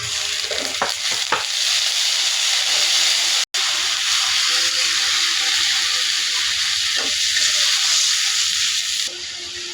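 Onion fried until red in a hot pan, with salt, garlic and ginger added, sizzles and hisses steadily while a spoon stirs and scrapes at intervals, loud and close throughout.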